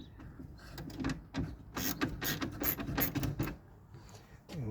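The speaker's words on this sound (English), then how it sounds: "we're just going to loosen these fasteners" Fasteners on outer car headlight doors are loosened with a tool, giving faint clicking and ratcheting mechanical sounds in quick irregular bursts, close by with no talking.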